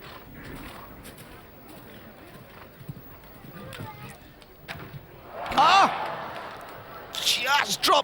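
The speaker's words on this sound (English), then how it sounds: "The horse is really leaping" A show jumper's hooves thud and clop across a course at the European Jumping Championships in San Patrignano, Italy, scattered hoofbeats with a louder burst near the end, faint and distant under a commentator's steady talk and crowd murmur.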